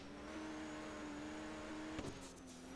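A Roblox racing jeep engine drones at a steady pitch during a lap, a sustained tonal hum with a brief bump and skid-like burst near the end.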